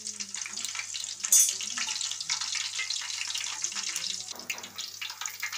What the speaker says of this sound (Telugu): ఇవి ఫ్రై చేసుకోవాలి